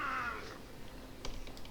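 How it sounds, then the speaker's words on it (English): A single cat meow in the fantasy role-playing game Icewind Dale 2, a short, fairly clear cry at the start, followed by faint clicking sounds. "The dead cat."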